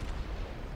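A deep, heavy boom from the Yamato's 18-inch battleship guns in World of Warships, one dense low blast filling a brief moment with rumbling weight and no voices.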